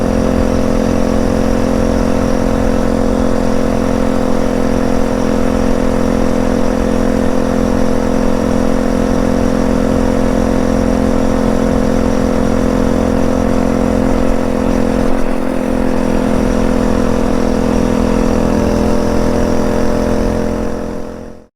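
Phatmoto Rover motorized minibike engine on a test ride, a loud, steady small-engine drone with strong harmonic bands holding near-constant pitch for the whole stretch, close and continuous with no talk.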